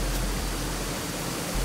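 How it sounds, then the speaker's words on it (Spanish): A waterfall roars as a steady, loud, broadband rush of falling water, heard close and unbroken on a forest hiking trail, with no voices. "Y la cascada, el agua cae allí."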